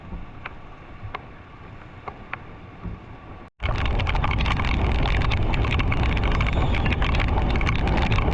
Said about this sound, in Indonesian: hujan semakin deras ini